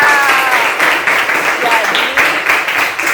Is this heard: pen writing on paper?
no